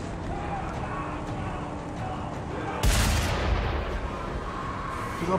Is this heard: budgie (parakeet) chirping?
no